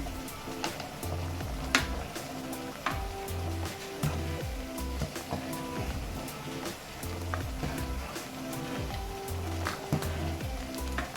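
Tomato sizzling with chili powder in a tempering for a field-bean curry: a soft, steady sizzle up close, broken by occasional sharp pops and light stirring clinks, no one talking.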